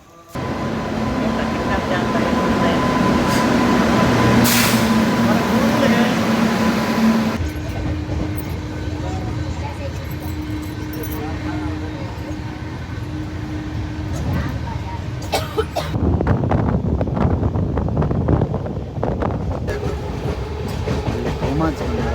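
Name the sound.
train at Ahmedabad railway station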